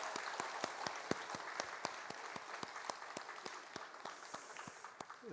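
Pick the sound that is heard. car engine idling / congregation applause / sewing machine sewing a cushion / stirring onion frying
congregation applause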